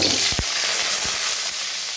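Potatoes sizzle in hot oil in a wok with bay leaf, cinnamon, cardamom and panch phoron, a dense close hiss broken by a couple of soft low knocks as they land and shift.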